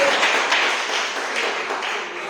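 A church congregation claps in dense, continuous applause, moderately loud and filling the room without a clear beat.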